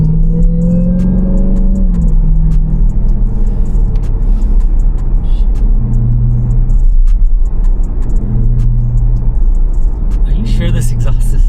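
A Jeep SRT with its loud stock exhaust drives past, giving a strong low rumble with rising and falling engine drones as it accelerates and shifts, close and loud, while people talk over it.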